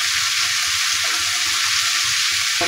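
Sliced potatoes and bitter gourd fry in hot oil with a loud, dense hiss and crackle, nearby and constant, with a faint scrape of stirring near the end.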